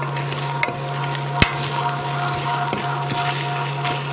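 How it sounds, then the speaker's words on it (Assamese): Ingredients frying in hot oil in a pan, a steady close sizzle with occasional stirring scrapes and clicks throughout. "অকণমান সময় মই তেলত ফ্ৰাই কৰিম তেলত"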